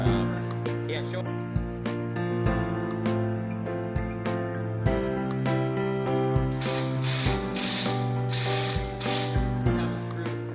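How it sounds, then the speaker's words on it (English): Screw being driven in during a repair of a loud bathroom exhaust fan, a series of sharp ratcheting clicks and mechanical taps repeating in irregular bursts up close, growing busier toward the end, with no talking over it. "Now the screw pulled that in, and it made that nice and tight as you can squeeze."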